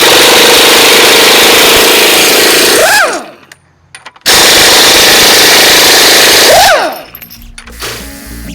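An impact wrench removes bolts from a Caterpillar 3406B engine in two loud, sustained rattling bursts, each ending with a rising-then-falling whine as the tool lets off, with a short quiet gap between them.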